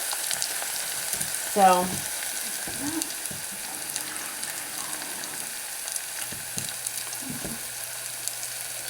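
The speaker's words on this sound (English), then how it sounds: "it looks like this is sauteing down pretty well" Shiro ingredients sauteing in a pan, a soft continuous sizzle and frying hiss with a few stirring knocks, fairly quiet throughout, with a brief spoken word near the start.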